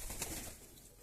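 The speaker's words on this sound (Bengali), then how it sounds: "এই দেখুন সব পায়রা চলে আসলো।" Pigeons cooing softly nearby as they gather to eat scattered foxtail millet grain, a brief faint low coo with light rustling in the background.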